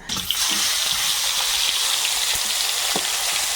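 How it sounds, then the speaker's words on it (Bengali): Oil heating in a wok-style kadai for a Sundarban fish curry gives a steady, loud hiss and sizzle that runs unbroken from start to finish, with no voices. "কড়াইয়ে তেল দিয়ে দিলাম"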